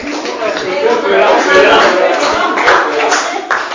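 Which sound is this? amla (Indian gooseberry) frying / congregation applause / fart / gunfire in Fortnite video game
congregation applause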